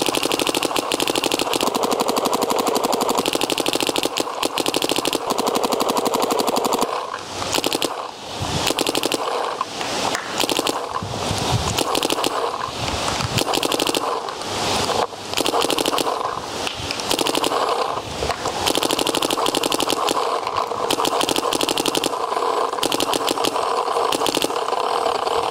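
A Planet Eclipse Etha 2 paintball marker firing in rapid, continuous streams of sharp pops outdoors on a paintball field, close and loud, with brief pauses between long strings and no talk.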